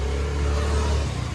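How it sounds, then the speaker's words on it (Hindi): Steady running hum of a Toyota car engine with a worn bearing, a continuous close mechanical whir with a low droning tone throughout the brief moment. "बैरिंग की है वो आवाज़।"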